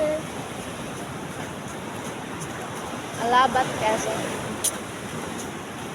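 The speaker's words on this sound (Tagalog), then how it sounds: "Lakas lang ng dagat ngayon." Rough sea surf rolls against the shore at Villa Norte, Alabat, Quezon, a steady wash of waves with wind buffeting the microphone while people talk over it.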